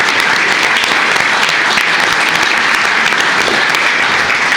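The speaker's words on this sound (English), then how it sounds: "One more big round of applause for all our employees." A room full of people at a county commissioners court meeting gives employees a round of applause, dense steady clapping that stays loud and even from start to finish with no talk over it.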